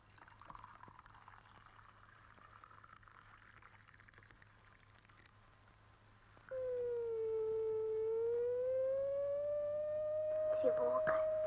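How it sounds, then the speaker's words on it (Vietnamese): An air raid siren from a 1944 wartime film starts after a quiet stretch and holds a loud, wailing tone that dips and then rises again. It carries on for several seconds over faint background noise. "Còi báo động."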